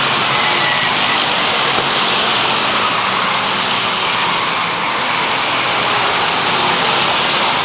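Stock cars race around the Waterford Speedbowl oval, a loud, continuous roar of engines that swells and holds steady without letup.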